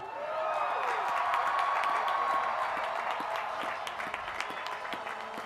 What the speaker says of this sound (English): let's have a big round of applause for our graduates